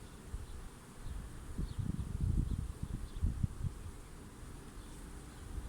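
Many honeybees in a strong twenty-frame hive buzz close by in a low, steady drone that swells briefly in the middle before settling back.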